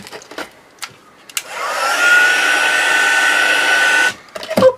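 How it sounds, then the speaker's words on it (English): A heat gun blows hot air to dry glitter on mixed media journaling cards, switching on with a steady loud whine and airy roar that holds for about two seconds before cutting off, with small handling clicks around it. "I'm just going to put my heat gun on,"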